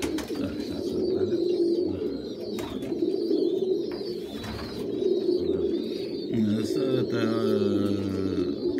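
White homing pigeons, young squeakers and an older bird, coo in a low throaty murmur that runs throughout, near and fairly soft, with faint chirps and some background noise.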